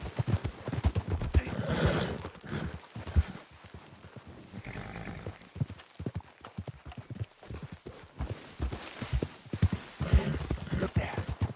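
Horse hooves clip-clop steadily with occasional neighs and whinnies in Red Dead Redemption 2, over a busy, continuous background of game ambience.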